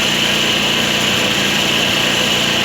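Motorcycle engine running steadily as the throttle is opened, a loud, close, high-pitched buzzing whine held without a break, no talking.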